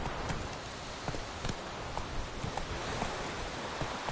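Roach the horse in The Witcher 3 clip-clops along at a steady walking rhythm, hooves striking clearly over soft rustling ground noise with no talk.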